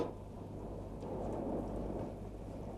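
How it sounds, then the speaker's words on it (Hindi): A sudden downpour hisses steadily while low thunder rumbles beneath it, a dense, moderately loud wash of rain with no voices. "बारिश एकदम आ गई"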